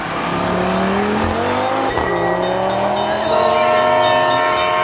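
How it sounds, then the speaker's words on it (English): A motorcar races through city traffic, its engine droning loud and close with rising pitch sweeps as it accelerates, a brief thump near the middle, continuous and alone without speech. "The thrill continues as he races through the city, weaving through traffic and dodging street signs."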